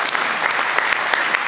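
Dense, steady clapping from a large audience of thousands at a live show, loud and close, continuous with no voices on top.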